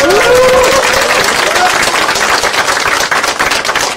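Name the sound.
audience applause and cheering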